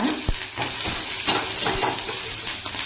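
Food fries in a spoonful of oil in a pan on a gas stove, giving a continuous close sizzle with occasional soft stirring scrapes.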